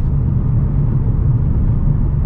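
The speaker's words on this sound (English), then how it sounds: "I'll shift it to like 2500, boom, I'm in fourth gear" Ford Mustang GT engine droning steadily in fourth gear while driving, a continuous low rumble heard from inside the car with no voices.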